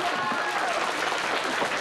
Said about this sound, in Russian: Друзья, давайте поаплодируем.